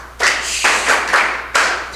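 At a school quiz show, a small group claps for the high school principal, a few close, uneven bursts of hand claps over about two seconds with no talking.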